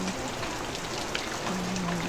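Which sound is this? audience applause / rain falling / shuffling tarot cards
rain falling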